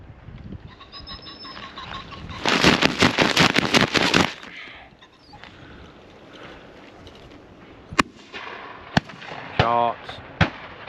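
Black powder muzzle-loading shotgun fired at a January game shoot on a windy day: a long rushing burst of noise followed later by three sharp, separate cracks against a quiet outdoor background.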